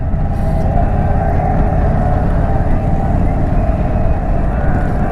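Indian Super Chief motorcycle with the 116 engine rumbling along on a ride, a steady deep engine drone with wind noise, loud and continuous with no speech.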